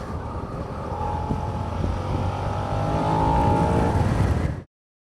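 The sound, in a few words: Suzuki SV-7GX motorcycle engine accelerating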